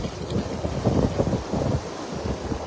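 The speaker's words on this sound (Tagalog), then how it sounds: "Dito kasi medyo malakas po talaga ang hangin." Strong wind buffets the microphone in irregular gusts, a rough low rumble with no voices.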